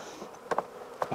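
Honeybees buzzing in a hive during an early spring inspection, a faint, close hum with a few brief louder buzzes as single bees pass near.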